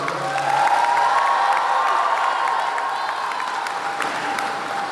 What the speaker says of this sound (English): for that we applaud them